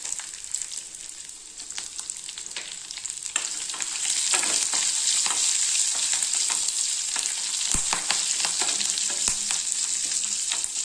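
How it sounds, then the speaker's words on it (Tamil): Onion, ginger and garlic frying in hot oil for a curry leaf dish, a steady bright sizzle that swells louder partway through, with scattered scrape and stir clicks close by. "வெங்காயம், இஞ்சி, பூண்டு இதெல்லாமே போட்டுக்கலாம்."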